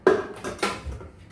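Ceramic plates bought at a D-Mart store clink and knock together as they are handled, a few quick close contacts with short bright rattles and no voices.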